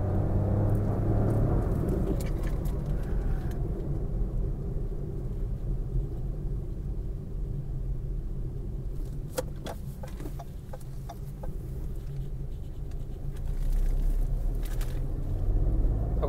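A 2024 fourth-generation Maruti Suzuki Swift VXi drives along with a steady low engine and road rumble throughout, heard from inside the car with scattered light clicks and rattles.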